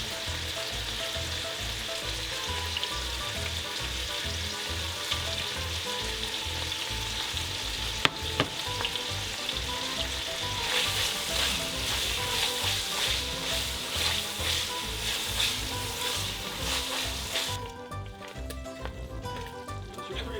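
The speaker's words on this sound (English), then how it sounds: "In the same pot, add olive oil in your bacon. Cook on medium heat, and this will start the rendering process." Bacon renders in olive oil in a pot over medium heat, a dense continuous crackling sizzle that stays close and steady, brightening into busier spitting pops partway through, with one sharp clink; nobody speaks.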